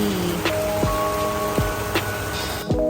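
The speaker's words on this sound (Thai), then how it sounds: "กลับมาถึงบ้านนะคะก็ฝนตก ฝนตก" Steady rain falls outside a home surrounded by green mountains, a continuous wash of drops with a few sharp knocks and drips standing out over about three seconds.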